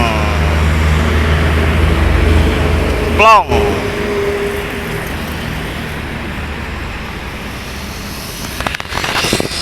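A Sumatra Barat intercity bus passes on a road toward the Palembang–Lampung toll, a roaring pass with a sharp two-tone air horn blast, then fading traffic rumble and a brief clatter, with someone talking over it.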